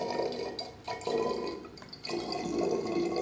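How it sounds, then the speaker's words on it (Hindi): Water poured into a container during a baking soda chemical experiment, a steady splashing, trickling pour close by, with a couple of brief pauses, and no talking. "तो गाइज इसके अंदर मैं पानी को डाल लेता हूँ, अब देख सकते हो सारा पानी को मैं डाल लेता हूँ इसके अंदर"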